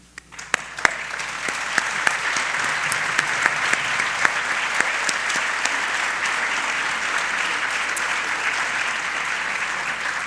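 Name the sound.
audience applause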